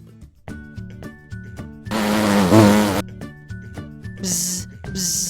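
A bee's buzzing drone rises over upbeat background music, one sustained buzz of about a second followed by two shorter buzzing bursts, fairly loud and near.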